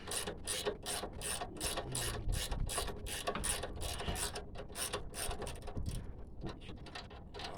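Rapid ratcheting clicks from an Allen key and spanner working a Renault Megane front strut nut, delivered in quick bursts of metallic ticking with brief pauses between strokes.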